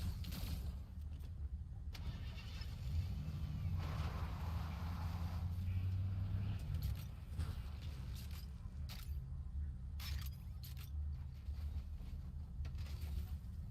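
A Fortnite vehicle engine hums steadily and low in the game during a duo tournament match, with faint mechanical creaks and clicks over it and soft commentary in the background.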